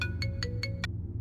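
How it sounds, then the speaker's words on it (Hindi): A mobile phone ringtone plays five quick, evenly spaced electronic tones, close and clear over a low background hum. "मेरा फोन,"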